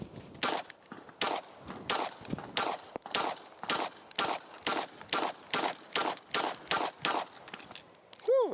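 About fifteen sharp 9mm shots from a PSA Dagger Micro pistol firing Super Vel 115-grain rounds at 10 yards outdoors, spaced in a steady, roughly even rhythm, each crack loud and close with a brief echo.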